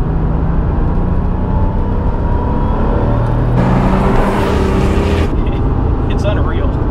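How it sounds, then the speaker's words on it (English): A 1986 Porsche 911 Turbo with a single-turbo 3.3-liter air-cooled flat-six pulls hard through second gear, a steady loud cabin drone that swells brighter as boost builds, then eases off. "What I'm gonna do is I'm gonna do a second gear pull so you can feel the turbo"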